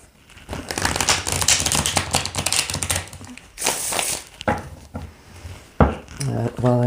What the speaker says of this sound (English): I'm going to cut them and I'm going to shuffle them